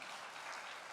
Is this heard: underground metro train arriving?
no